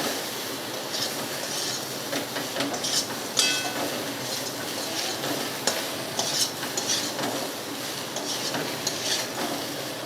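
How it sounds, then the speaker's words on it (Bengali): Drumstick stems (sajne data) frying with sugar in a pan: steady sizzling under repeated spatula scrapes and stirring strokes, with an occasional brief metallic clink. "चीनी देওয়ার पर आरो किछुक्षण नेড়ে চেড়ে भेजे नेब।"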